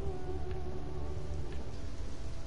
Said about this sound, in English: She just made it rain and nobody is questioning her powers. It is pouring.